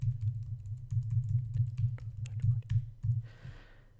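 Steady, brisk key presses on a computer keyboard as a card number is entered, the clatter close and even over a low background hum, with no talking.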